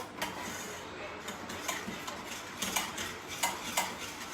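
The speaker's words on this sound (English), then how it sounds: "we're going to mix that together. Mix it well." A metal spoon stirs sugar into a mixture in a bowl, giving repeated light clinks and scrapes against the side in an uneven rhythm, close and moderately loud, with no talking.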